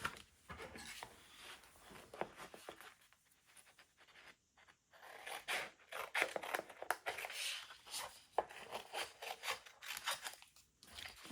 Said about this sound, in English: So I'm just going to cut the corner off